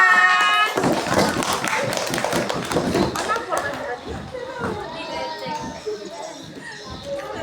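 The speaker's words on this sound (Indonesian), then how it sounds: "Tepuk tangan." Dense, fairly loud applause from an audience at a school Youth Pledge Day drama contest, welcoming the class 6 boys' group of performers, rising sharply then thinning as children's voices and chatter carry over it.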